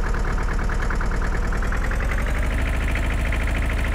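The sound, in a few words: Ursus C45 tractor engine idling, video game DLC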